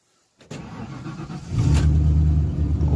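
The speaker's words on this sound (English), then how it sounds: "We'll get it started right up." An old truck that has sat unused for years cranks and starts, catching quickly after a brief silence and settling into a loud, close, slightly rough idle.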